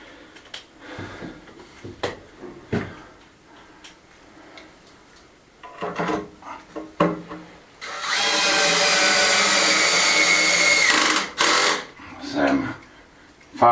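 A power drill drives black screws into a wall in an old kitchen, a sustained loud whirring burst of a few seconds after scattered knocks and clicks, followed by short tightening bursts.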